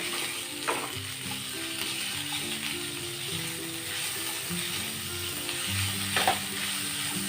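Chopped chicken frying in a hot pan for momos, a steady close sizzle with occasional stirring scrapes throughout.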